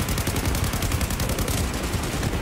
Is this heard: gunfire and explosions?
yes